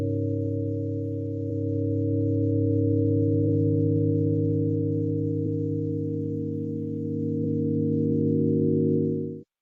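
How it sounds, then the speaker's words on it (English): A sustained, harmonic drone of music breathes at six breaths per minute. Its loudness slowly swells and eases over about ten seconds, then cuts off abruptly, with no voice. "I produced music that breathes at 6 breaths per minute, and it sounds something like this"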